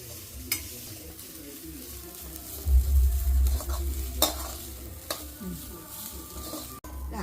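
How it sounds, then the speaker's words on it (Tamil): Grated coconut sautés in a pan for sesame and coconut kozhukkattai filling, a steady sizzle broken by repeated spoon stirs and scrapes against the pan, close and clear. "தேங்காய் வதக்கிறோமா கொஞ்சம் ஈரம் போக வதக்குனா போதும்"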